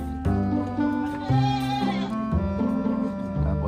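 Goats for sale at a livestock market in Cabanatuan bleat steadily and close by, several drawn-out cries overlapping and following one another with almost no pause, while a voice is barely audible in the background.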